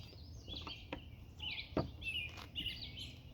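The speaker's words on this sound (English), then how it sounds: "All the birds are singing their songs." Several birds chirp and sing outdoors in a quiet natural setting, with short bright tweets and trills scattered irregularly, fairly faint and at a moderate distance, with no voices.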